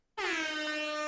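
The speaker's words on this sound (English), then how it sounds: "For now, you get an air horn." A single loud air horn blast kicks in sharply and holds steady, bright and brassy, for about a second with no other sound.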